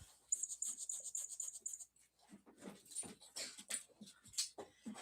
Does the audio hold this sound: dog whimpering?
yes